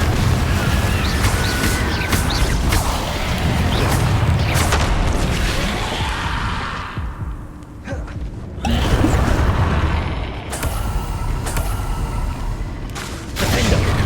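Confringo blasting-spell explosions in Hogwarts Legacy, a loud, dense run of booming blasts and crackling impacts that dips briefly into a quieter lull before another heavy burst and continued rumbling, with no talking.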